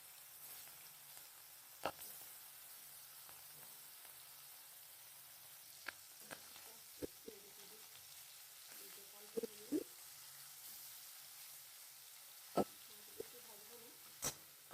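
Green chili and black nigella seeds crackle in hot mustard oil while mustard hilsa is cooked, a soft steady sizzle broken by scattered sharp pops, with a voice speaking faintly now and then.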